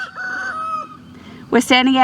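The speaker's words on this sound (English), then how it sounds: "We have a rooster that likes to crow." A rooster crows nearby on a farm in Australia on an autumn day, a long drawn-out call, then after a short pause another loud crow begins, with hens faintly in the background.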